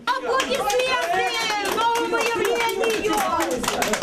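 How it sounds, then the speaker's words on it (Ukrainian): People applaud a prosecutor in a building corridor, with a burst of scattered clapping mixed with lively crowd chatter and voices throughout. "Зустріли прокурора оплесками у коридорі."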